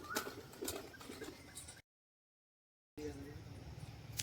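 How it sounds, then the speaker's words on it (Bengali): Pigeons cooing at dusk as they settle into their coop, soft low coos and fluttering close by, cut by a brief silent gap before resuming. "ওর ভিতরে সব পায়রাগুলো ঢুকে যাচ্ছে।"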